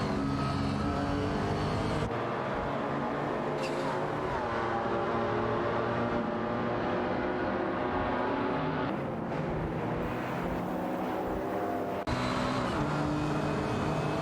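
Race car engines of a Nissan Skyline GTR R33 and a Holden Commodore in a racing video game, a steady loud engine drone with shifting revs and pitch changes throughout, no talk over it.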